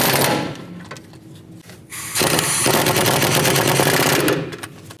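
A power tool whirs in bursts while running in the rear caliper bracket bolts on a 2008-2013 Nissan Rogue's brakes, with a brief buzz early on and a longer, louder run in the middle.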